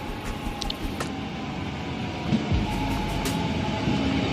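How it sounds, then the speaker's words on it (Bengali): Steady rumble of a passenger train riding toward Setúbal, Portugal, heard from inside the carriage with continuous rolling noise and a few faint high squeaks and clicks, no voices. "এই ট্রেন একবারে ডাইরেক্ট সেতুবাল নিয়ে যাবে"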